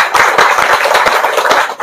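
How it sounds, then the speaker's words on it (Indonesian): A nearby audience at a gathering claps loudly and briskly for about two seconds, many hands together in a quick, slightly uneven rhythm. "Tepuk tangan dulu."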